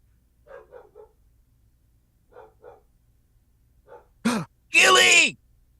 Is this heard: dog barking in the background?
yes